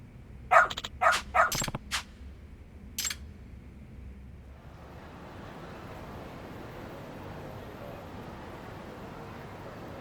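A dog in the video game Lost Judgment barks four or five times in quick succession at close range, gives one more bark a moment later, and then falls silent under a low steady ambient hiss.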